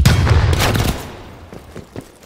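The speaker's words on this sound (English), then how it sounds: "Hand cannon ready." Bursts of hand cannon gunfire in the Call of Duty Black Ops Cold War video game, loud and dense at first, then thinning into a few scattered, fainter shots.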